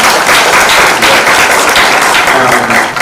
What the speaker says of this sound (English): So let's give her a round of applause too.